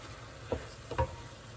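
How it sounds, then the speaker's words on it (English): A wooden spoon scrapes and stirs mushroom risotto rice in white wine in a pan, two soft strokes over a low simmering sizzle. "we're going to keep stirring this until the rice has absorbed all that white wine"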